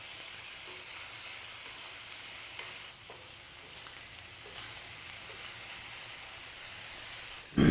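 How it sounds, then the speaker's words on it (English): Chopped steak being stir-fried on a griddle gives off a loud, continuous hissing sizzle at close range, with occasional spatula scrapes and taps over the steady frying. "Then just basically saute it, stir fry it onto the griddle"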